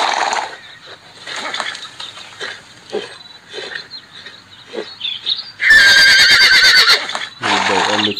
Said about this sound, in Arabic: يقلد صوت الحصان